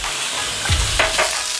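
Top sirloin steak hitting a hot pan, a loud close sizzle that flares up as the meat lands, with a couple of short scraping bursts.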